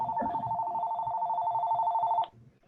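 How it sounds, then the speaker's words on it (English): A telephone rings in the background with a steady electronic bell tone for about two seconds, then cuts off, with faint room noise and murmuring underneath. "That's my phone in the background."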